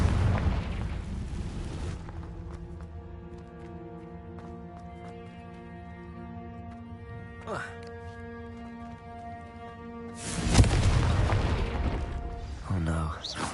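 A Confringo fire spell explodes in the video game Hogwarts Legacy as a sudden loud booming burst late on. It comes over steady game music, with a shorter bang near the end.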